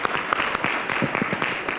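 Short burst of applause from the audience at a school board of education meeting, scattered clapping that swells briefly and then thins out.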